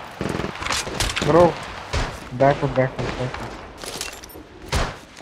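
Gunshots from the video game Apex Legends Mobile go off in short bursts and single cracks, mixed under frequent speech and in-game voice lines.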